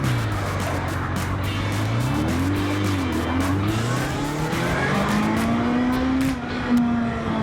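The engine of a 1979 Kawasaki KZ650SR motorcycle, with a stuck carburetor float, revs up close and loud, its pitch climbing, dipping and climbing again to a high sustained whine.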